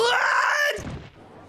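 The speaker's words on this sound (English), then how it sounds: "need water after that scream." A loud, sustained human scream from a courtroom trial game scene, one long piercing cry that cuts off abruptly and trails into a lower groaning tail.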